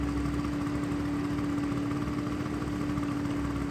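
A Zuma scooter engine idles steadily with a fresh carburetor, a close, constant mechanical hum with a strong droning tone that holds unbroken throughout, with no voices.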